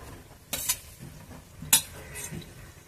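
A spoon stirs cooked rice with tomato and mutton masala in a pan, giving a few soft scraping and clinking strokes against the metal at a quiet, close level.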